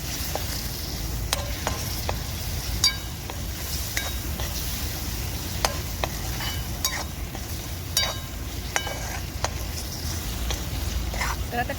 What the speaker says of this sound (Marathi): आता मी परतून घेते टमाटर